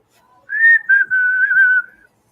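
A person whistles a jaunty tune alone, clear and close, in short bright phrases: a rising opening note, a brief pause, then a longer wavering held line lasting a second or so.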